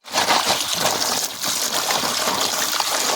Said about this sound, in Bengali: তারপরে ভালো করে জল দিয়ে ধুয়ে নেব।